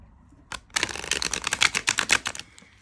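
A tarot card deck with sturdy cardstock being shuffled, a rapid run of crisp riffling flaps and clicks lasting about two seconds, close and fairly quiet.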